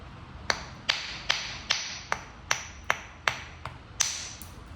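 Flint knapping with a hammer while thinning a point's tip: nine sharp, ringing strikes at a steady, slightly uneven rhythm, each a crisp close click with a brief ring, no talking.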